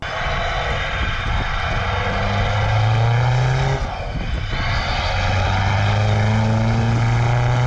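A straight-piped 2008 Saab 9-3 Aero 1.9 TTiD diesel estate's exhaust droning steadily on overrun, a loud rising whine much like a propeller plane engine, with no voices.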